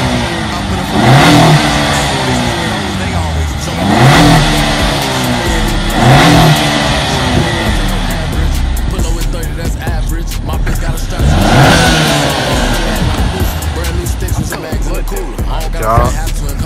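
A 2022 Honda Accord fitted with a K&N drop-in air filter revs loudly several times, each rev rising and falling in pitch, with rattling and clicking later on and no speech.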